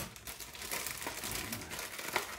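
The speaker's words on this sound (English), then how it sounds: "I'm just cutting it open with scissors." Scissors cutting open plastic packaging on a Bandai Pokémon scale figure set, a steady run of close crinkling and snipping with a sharper click near the end, no talking.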